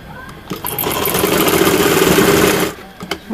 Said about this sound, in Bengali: রাবার কাপড়টা সহ আমি এখানে 9 ইঞ্চি করে হাইয়ের জন্য সেলাই করে নিব উপর থেকে।